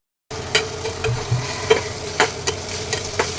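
Soaked rice with a pinch of sugar and turmeric frying in a pan, stirred with soft scraping clicks and a steady low sizzle throughout, close and moderately loud, no voices.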